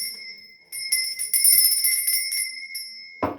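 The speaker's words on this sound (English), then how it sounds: "I have got this lovely lady bell. This is just to cleanse the space around us." A small hand-held lady bell rings out with bright, sustained metallic tones in a quiet room, struck a few times and shimmering as it decays, ending with a brief handling knock.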